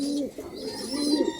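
Racing pigeons, an off-color squab, cooing nearby in a short soft burst of low throaty coos, with faint chirps in the background.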